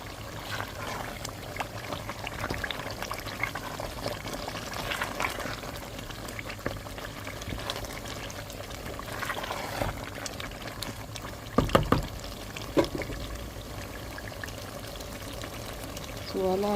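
Meat dropped into a pan of frying Nigerian efo riro vegetable stew, giving a steady bubbling sizzle with a few sharper splashes and clatters near the end, heard close with some speech.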